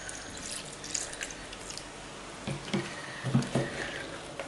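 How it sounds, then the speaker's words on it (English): Milk poured gradually into toad-in-the-hole batter in a home kitchen, a faint liquid trickle and patter with a few soft splashy bursts toward the end. "So now we can add the milk."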